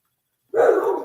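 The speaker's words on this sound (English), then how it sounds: "Unfortunately, you can hear the dogs" Dogs bark and whimper in another room beyond a bedroom, a sudden muffled burst that starts after a moment of silence and carries on steadily at moderate loudness.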